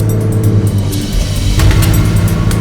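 An old farm tractor's engine revs up loudly on the field, a steady low throb swelling in power partway through, heard close with no talking.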